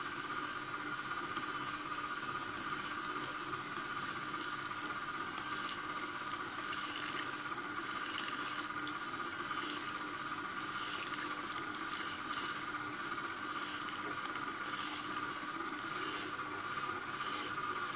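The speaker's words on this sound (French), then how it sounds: "Et on rajoute l'eau petit à petit." A stand mixer churns flour, semolina and yeast for Altamura bread while water is added little by little, a steady, fairly quiet whir with a faint wet, sloshing texture and no talk.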